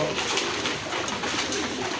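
A loft full of many quality pigeons fills the air with continuous overlapping cooing, a dense, close, steady murmur with no talking.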